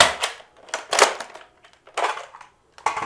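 A Nerf magazine drops out of an Air Warriors toy rifle and is handled, giving sharp plastic clacks and clicks in uneven bursts, close and loud with quiet gaps between.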